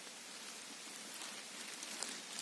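Light rain falls steadily through a forest during a summer mushroom hunt, a soft, even hiss of drops on leaves that stays faint and constant with no voices.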